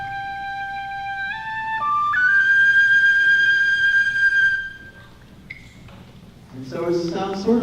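A clear tin whistle plays sustained high notes that step between pitches with a wavering, fluttering finger vibrato, then a voice starts speaking at the end.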